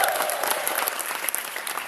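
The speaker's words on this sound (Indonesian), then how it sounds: "Tepuk tangan buat Anda semua." An Indonesian seminar audience breaks into dense, sustained applause, a continuous crackling wash of many hands clapping close by for the whole moment.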